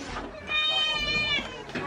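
A cat meows once, close and clear, a drawn-out rising and falling call in a rural Philippine home, with a brief murmur of voices around it.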